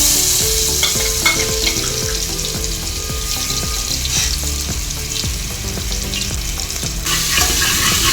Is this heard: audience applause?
no